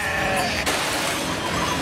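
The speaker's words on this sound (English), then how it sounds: "There's so many sheep here." Sheep bleat on a Greek farm where shepherds rear lambs for meat and milk, a dense, loud chorus of overlapping bleats from a flock with one sharp clatter midway.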